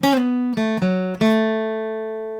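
Four plucked electric guitar notes in a short melodic phrase from a guitar solo, the last note ringing out and slowly decaying, clean and alone.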